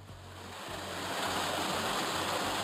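A waterfall beside the Pamir Highway gives a steady rushing roar of falling water that swells slightly louder over a few seconds, with no one talking.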